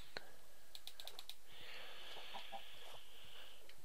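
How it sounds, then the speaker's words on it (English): A chicken clucks in a Minecraft world at night, short chirpy clucks close by, followed by a longer squawk, under soft keyboard tapping and faint low speech. "There's a chicken in the water for some reason."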